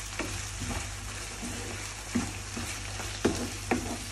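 A spoon stirs a sweet jaggery mixture for Hayagreeva in a pan, with occasional scraping knocks over a steady soft sizzle, heard up close without any speech.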